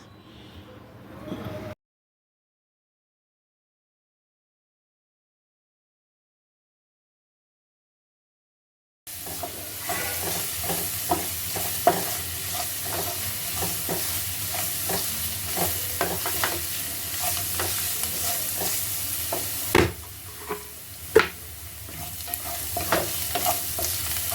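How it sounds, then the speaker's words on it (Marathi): Onion sautéing in a pan for masala khichdi, a steady sizzle with frequent scraping stirs after a long silent gap at the start, close and alone without talk. "सगळं मिश्रण चांगलं परतून घ्यायचं आहे आता आपण पॅनमध्ये कांदा टाकणार आहोत"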